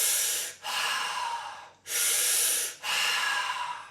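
A breathwork round of fast, forceful breathing: loud, close breaths rush in and out in a steady rhythm, separated by short gaps.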